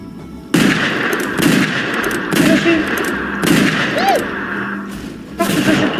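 Gunfire in a Wild West video game: repeated loud shots, five or six sharp bursts spaced about a second apart, each with a short rumbling tail over steady game ambience.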